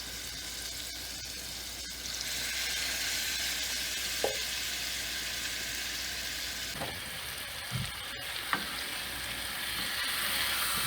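Chopped onion browning in a very hot pan for keto meatloaf, a steady broad sizzle running throughout with a few scraping stirs and clinks, close and fairly loud, with no talking.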